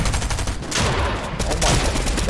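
Rapid bursts of video game gunfire from an SMG in a shooter, a dense, loud volley of overlapping shots lasting a couple of seconds with faint background noise.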